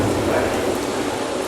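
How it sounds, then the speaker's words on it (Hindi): Heavy downpour at night during a lightning storm, a steady, loud, broadband rushing hiss of rain with a low rumbling undertone, continuous with no voices. "रात का सन्नाटा और बिजली के साथ मूसलाधार बारिश होती हुई"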